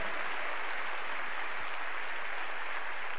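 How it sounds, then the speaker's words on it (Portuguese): Audience applause at a church gathering, a dense steady wash of many hands clapping, fairly loud and continuous throughout. "pode aplaudi-lo"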